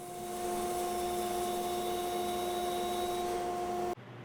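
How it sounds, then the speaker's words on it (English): Bandsaw cutting wooden wedges, a steady loud whir with tonal motor hum held throughout, ending abruptly as the cut finishes and the noise drops. "I ended up cutting those out on the bandsaw instead"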